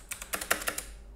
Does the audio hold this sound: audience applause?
no